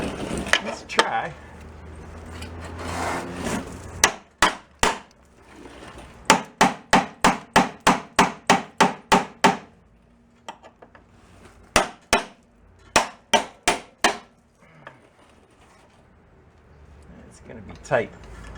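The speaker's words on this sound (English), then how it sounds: "I give it a whack with a hammer" Loud, sharp hammer blows on the rusty steel frame rail of a VW Beetle: quick runs of a dozen or so ringing strikes, then pauses and another burst, with people talking between them.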